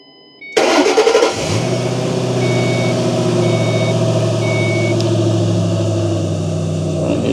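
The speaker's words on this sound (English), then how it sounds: "Crank the engine." A 2005 Ford Mustang engine cranks briefly, catches and starts, then settles into a loud, steady idle close by, with a few faint electronic beeps early on.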